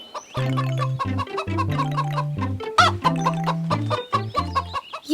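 A cartoon hen clucks in a busy run of repeated, tonal squawks, loud and close, with no talk.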